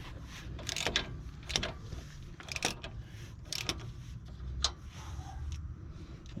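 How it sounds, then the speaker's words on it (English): A ratchet clicks in short bursts while a big bolt is tightened under a 2008 Nissan X-Trail T31 with a 2.5-litre engine, several sharp metallic strokes close by with quiet pauses between them. "I've got to tighten that big bolt under here"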